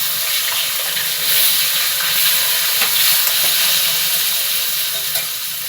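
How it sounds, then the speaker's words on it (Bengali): Potato pieces frying in hot oil seasoned with salt and turmeric, a continuous close sizzle and hiss holding steady throughout with faint stirring clinks. "এটাকে আগে আমি আলুটাকে ভালো করে ভেজে ভেজে নেব।"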